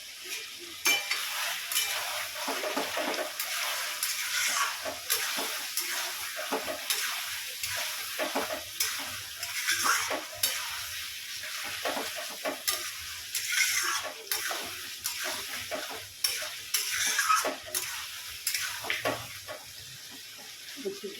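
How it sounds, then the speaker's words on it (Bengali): Chicken liver and gizzard fry in a pan with yogurt while being stirred, a continuous bright sizzle broken by frequent scraping strokes of the spoon, close and steady, with no voices. "এবার আমি ভালো করে কষিয়ে নেবো"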